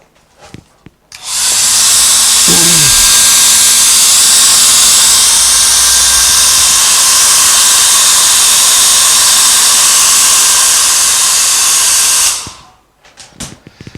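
A hair dryer blows over acrylic paint on a canvas, a loud, steady close roar lasting about eleven seconds before switching off.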